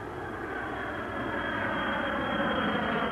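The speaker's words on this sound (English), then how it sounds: "Listen to the difference as first the plane with the untreated engines flies over." A 1970 jetliner with untreated engines roars overhead in a loud, steady broadband rumble with a high whine, filling the whole stretch with no voices.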